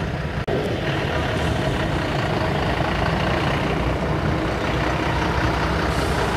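An army truck carrying a soldier's body on a military funeral procession pulls away, a steady low engine rumble with one brief sharp knock near the start and no voices.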